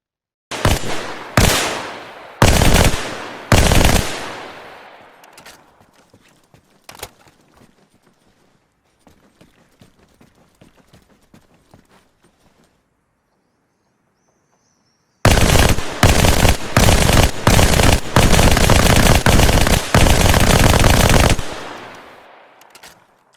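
Loud, rapid bursts of Halo 2-style SMG fire in Arma Reforger, a few clipped volleys, a quieter stretch of scattered clicks and shots, then a long sustained barrage.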